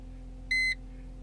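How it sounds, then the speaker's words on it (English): A Mercedes S210/W210 E-Class dashboard gives one short, clear electronic beep when the service interval is reset, sounding alone over a low steady hum inside the car. "It's going to get beep for you, and it's going to say service interval has been reset."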